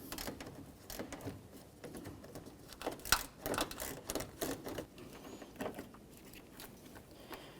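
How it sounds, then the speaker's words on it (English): Ratcheting bit driver turning a Phillips screw out of a 2003-2007 Honda Accord grille, giving faint, close, irregular ticking clicks over a quiet background. "We'll use a Phillips head and a ratcheting bit driver so we can remove these."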